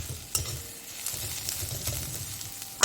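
Onions fry with green chillies in a pan, giving a steady close sizzle broken by a few scraping stirs and a sharp clink of a utensil at the end.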